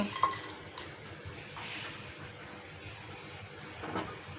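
Chopped onions fry in a quarter cup of regular oil while a spoon scrapes and clinks against the pan in uneven strokes over a low, steady sizzle.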